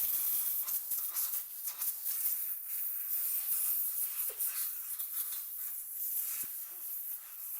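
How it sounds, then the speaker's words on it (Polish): Compressed air from a spray can blasting over the parts of a VIS wz. 35 pistol to dry off petrol, a steady faint hiss with small clicks and handling knocks, close and quiet with no talk. "Jak już go psiknęliśmy tą benzyną, to tak samo dobrze go wysuszamy powietrzem w sprayu"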